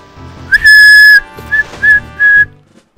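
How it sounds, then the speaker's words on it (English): A shrill whistle blown in the video game Ocarina of Time, one long blast followed by three shorter toots, loud and alone. "That's my rape whistle."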